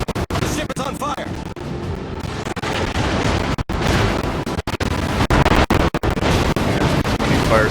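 Naval gun shells firing in a warship video game: repeated booming cannon blasts and explosive bursts, some in quick succession, loud and dense over rumbling battle noise, with someone talking over them.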